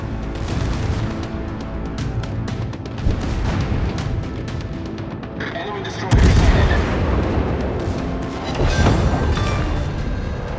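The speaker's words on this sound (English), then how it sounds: "Destroyer blown up." A naval battle in World of Warships, with a Scharnhorst battleship and a destroyer blown up, fills the clip with heavy, continuous gunfire and booming blasts. A voice speaks over the action, and a big explosion surges in partway through.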